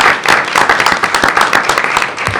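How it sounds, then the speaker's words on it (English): Steady applause from a room of people at a school board meeting, dense overlapping claps held at an even, fairly loud level throughout, with no voices standing out. "So let's give them a round of applause."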